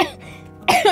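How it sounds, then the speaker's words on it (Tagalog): A person coughing hard after choking, a close, loud burst of two harsh coughs with a throat-clearing rasp. "Nasamid siya sa sinabi ko kaya inihit siya ng ubo."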